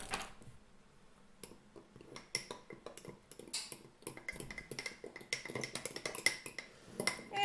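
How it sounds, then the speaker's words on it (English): Flour and water batter for a sourdough starter is stirred in a bowl, giving a quick run of small clicks, taps and wet scraping that is close and fairly quiet. "And I'm going to mix it around."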